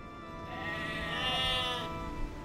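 A sheep in the video game Age of Empires 2 lets out a single drawn-out bleat, close and clear over faint game ambience, with no speech.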